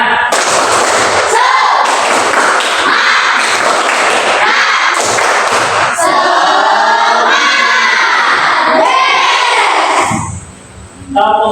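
A large group claps loudly in steady unison rhythm, likely a class or training gathering, with broadband bursts filling most of the clip before a brief drop near the end.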